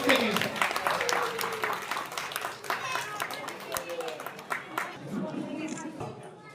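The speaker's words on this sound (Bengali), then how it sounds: "আমি আবার বললাম জোরে হাততালি দিন" An audience at a live gathering claps loudly in a fast, dense burst of applause that continues for several seconds, with a voice speaking over it.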